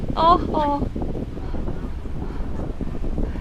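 Wind blows outdoors in Busan, a steady rough rumble buffeting the microphone for the whole stretch, with brief voices near the start.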